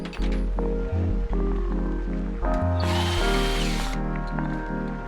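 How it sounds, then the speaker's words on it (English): A power drill bores a hole in the middle of a piece of wood while building a training sword, whining loudly close up in a pulsing, stuttering rhythm, with a brief higher grinding burst midway. "Next, drill a hole"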